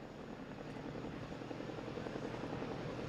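Chinook helicopter at the Bournemouth Air Festival, a steady rotor and engine roar held at an even level, fairly distant and faint, with no talk.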